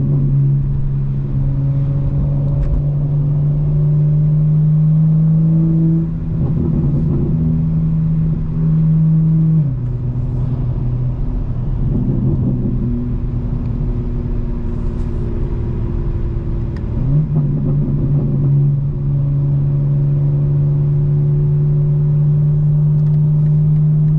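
A 2025 BMW M4 Competition xDrive driving in the rain, its engine droning loud and close with a steady low hum that shifts pitch through several rev changes while held in fifth gear.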